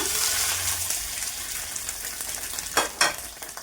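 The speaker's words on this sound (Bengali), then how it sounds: "তেল গরম হয়ে গেছে, দিয়ে দেবো মাছের ডিমটা।" Salted fish roe hits hot oil in a pan, a steady close frying hiss with a couple of sharp louder bursts of spatter near the end, no voices.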